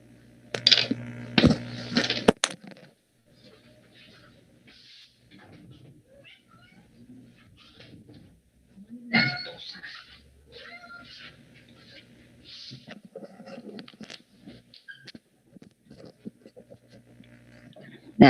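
A house cat meowing indoors, several short cries scattered across a quiet room, moderately close, with faint background sounds between them.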